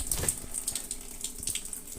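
Water running from a cold tap in a restroom with low pressure, a steady, fairly quiet splashing hiss into a sink with no voices.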